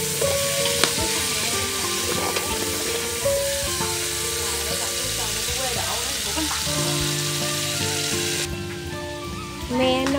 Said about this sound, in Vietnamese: Xào lương cho nó săn lại.